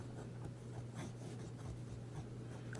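A Lamy Safari fountain pen with an oblique medium nib, freshly dipped in ink, scratches steadily across paper in close, soft rubbing strokes over a constant low hum.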